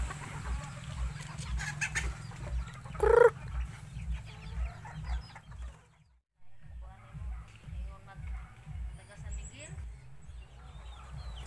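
Malaysian serama bantam chickens cluck and call at a Filipino breeder's garden, with a brief sharper crow-like call early on, over a steady low rhythmic pulsing background; a voice talks over part of it.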